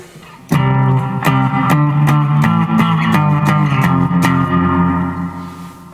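Electric guitar played through a Fender Mustang I amp set to its Twin Reverb model, a run of clean chords struck about every half second, full and ringing with a reverberant tail, loud and alone.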